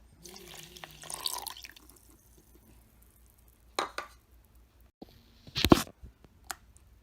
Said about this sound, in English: I'm going to add to that a 1/4 cup of white vinegar, cup of soy sauce,